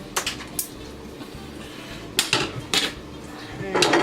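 Meatballs in sauce are stirred in a pot for Cajun spaghetti and meatballs. A spoon knocks and scrapes against the pot in a few sharp, close clatters with quieter wet movement between them.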